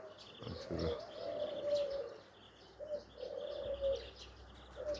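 Young pigeons in a loft give soft, repeated low coos in short phrases, faint and fairly close, with light chirps and a brief flutter of wings. No one speaks.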